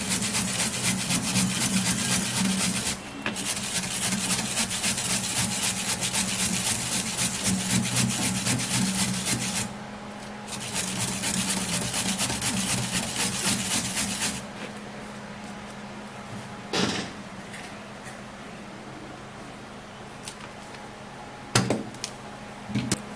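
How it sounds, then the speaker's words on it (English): Carrots are grated on a grater in a circular motion, giving continuous rough rasping in long bursts with brief pauses. Quieter scraping and a few sharp knocks follow near the end. "I'm gonna be getting a grater, and then I'm gonna be grating carrots"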